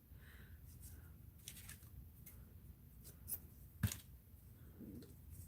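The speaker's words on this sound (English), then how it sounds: "let's just cut this in half" Scissors snipping through paper for an art journal, a handful of quiet, crisp cuts with one sharper snip near the end, faint and close against a soft background.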